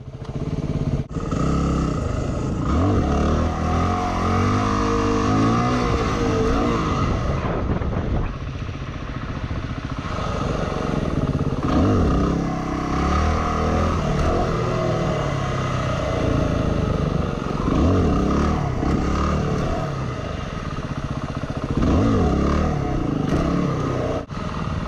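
A Yamaha WR250R dual-sport motorcycle revs and surges repeatedly during wheelie practice, engine pitch rising and falling in loud, close bursts with gear changes and clattering, no talk over it.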